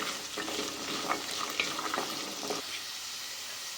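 Chickpeas fry in oil with chili powder, coriander powder and salt, giving a steady close sizzle broken by several scraping stirs that stop near the end.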